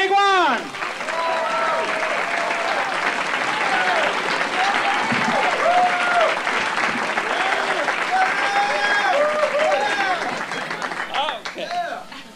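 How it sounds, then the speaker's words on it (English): A comedy club crowd applauds as a comedian comes on stage, with loud, sustained clapping and cheering and some whoops and voices mixed in before it begins to fade toward the end. "A lot of love, a lot of applause, a lot of laughter"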